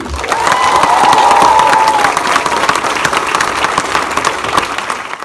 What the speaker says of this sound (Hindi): I want you all to welcome him with a lot of hoots और बहुत सारी तालियां